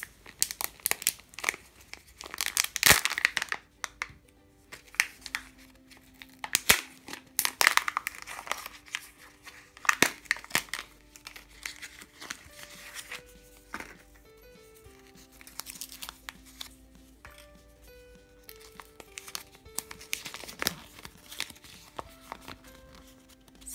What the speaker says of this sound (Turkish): Şimdi bu yumurtamızı bebe için açıyoruz.